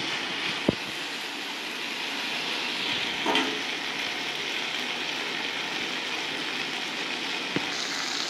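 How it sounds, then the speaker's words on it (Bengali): Potatoes, prawns and chickpeas frying with spices in a pan for a banana flower and prawn curry, a quiet, steady sizzling hiss with a few faint clicks from stirring. "এবার ভালো করে মশলার সঙ্গে আলু, চিংড়ি মাছ, ছোলা ভালো করে আমি ভেজে নেব।"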